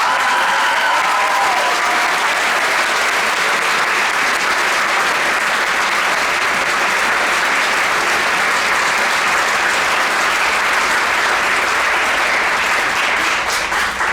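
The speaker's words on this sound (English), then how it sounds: "Please give a big round of applause to Emily Fillmore." Loud, sustained applause from the crowd at a high school orchestra awards ceremony, a thick continuous wash of clapping that holds steady and close throughout, with no talking.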